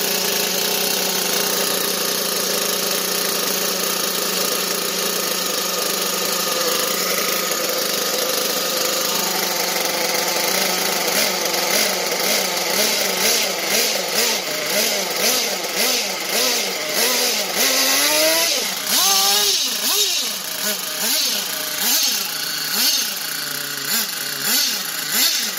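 A small nitro-fuelled RC car engine runs with a high, buzzy whine that holds steady at first, then rises and falls in repeated revving surges in the second half, loud and close throughout.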